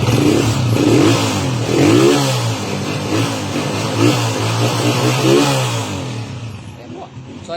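A motorcycle engine fitted with a first-model CDI idles steadily and rises in several revving swells, close and loud, with someone talking over it.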